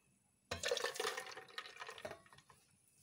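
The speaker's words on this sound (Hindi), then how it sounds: "अब हम इसमें डालने लगे हैं दूध" Milk poured in for a coffee ice cream shake makes a brief, quiet liquid splash and gurgle that starts abruptly and tapers off over a couple of seconds.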